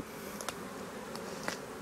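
Honeybees forage around a sunny spring beehive, making a steady, close, buzzing hum with a few brief, sharper swells of wingbeats and no talk.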